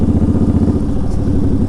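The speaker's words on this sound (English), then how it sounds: "Oh, there's a motorcycle." A motorcycle engine chugs loudly and close by on the Biloxi and Ocean Springs area streets, a steady throbbing clatter held throughout without any voices.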